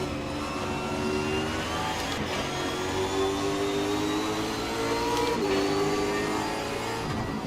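Supercar engines in Assetto Corsa racing at Road Atlanta, a close loud drone of several cars running nose to tail, with rising and falling engine pitch and brief gear-shift breaks, no talking.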